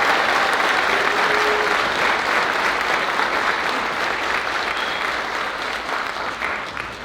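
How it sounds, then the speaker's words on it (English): Sustained, dense round of applause from a large audience at a school district event as high school students walk off stage, steady and loud throughout with a slight fade at the end. "can we give them another round of applause"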